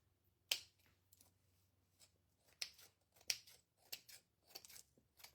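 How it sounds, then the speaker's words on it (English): Scissors snip at the edges of a craft pumpkin decoration, a series of about eight sharp, close cuts in an irregular rhythm with short pauses between, in a quiet room with no talking. "I am going to snip off a little bit more here and there."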